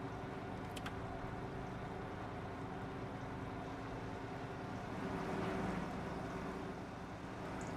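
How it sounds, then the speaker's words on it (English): A tractor engine in Farming Simulator 25 runs at a steady idle, a continuous low rumble that swells slightly partway through, with no talking over it. "Start the engine."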